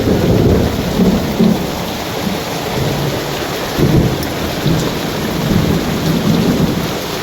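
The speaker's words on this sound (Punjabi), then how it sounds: "ਬਰਫ਼ ਪੈ ਗਈ ਹੈ ਤਾਂ ਗੜੇ" Heavy rain and hail pour steadily with low rumbles of thunder rolling in and out, loud and close, with no voices.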